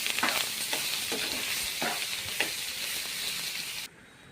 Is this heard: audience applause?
no